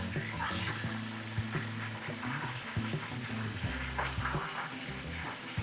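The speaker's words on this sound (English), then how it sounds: "This is where we do our deep frying." Steady crackling sizzle of Cantonese crispy-skin chicken deep frying in hot oil, continuous and fairly loud, with a low background hum and occasional clatter.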